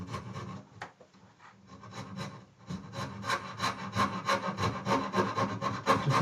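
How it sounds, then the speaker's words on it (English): A Shinto rasp shapes a wooden Telecaster guitar body with close, loud rhythmic rasping strokes that start slow and uneven, then settle into a quicker regular back-and-forth run, with no speech. "I'll get the Shinto rasp up."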